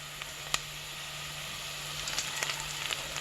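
Spice pack sizzling with softened onions in a pan for garlic chilli, a low steady frying hiss with a few sharp crackles and pops, fairly quiet and close, no talk.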